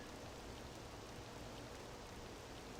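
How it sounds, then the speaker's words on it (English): Soft, steady patter of rain in the video game Persona 5 Royal, a quiet even hiss with no talking and no distinct drops standing out. "And it's raining."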